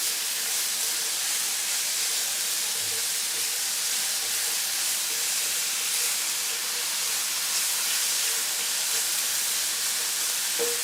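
Onions and mushrooms browning in a pan give off a steady, dense sizzle with a constant hiss, loud and unbroken throughout, with no voices.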